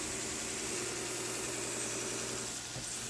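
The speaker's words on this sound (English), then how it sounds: "The surface grinder with the belts really does it quite efficiently and quickly." A belt surface grinder takes annealed Damascus knife steel down toward final thickness, giving a steady, continuous mechanical whir and drone with constant loudness throughout and no talking.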